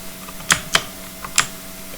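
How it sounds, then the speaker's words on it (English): Keys on a computer keyboard are pressed during a coding lesson: four or five sharp, separate clicks at uneven intervals, close and fairly soft over a quiet room hum. "Press Ctrl C on your keyboard."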